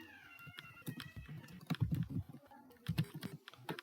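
Rapid keystrokes on a computer keyboard while HTML code is written, close and fairly quiet, coming in short irregular bursts with brief pauses between them.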